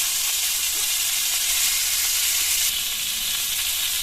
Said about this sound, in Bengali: এবার একটা একটা করে কাঠি দিয়ে ভেজে নেব।